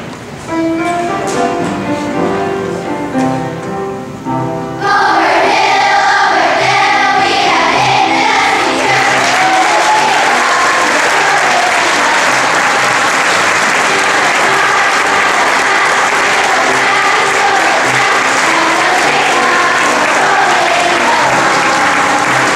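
A crowd at a Veteran's Day program breaks into loud, sustained applause and cheering for standing veterans, swelling suddenly after a few seconds of music and holding strong to the end.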